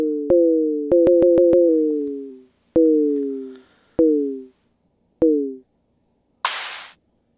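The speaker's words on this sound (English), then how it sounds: "So that's all the synth drums" Synth drum hits from a Teensy-based Kaos synth: dry electronic blips with falling pitch, a quick burst of clicks, then spaced single hits and a final noisy hi-hat-like hiss, loud and alone.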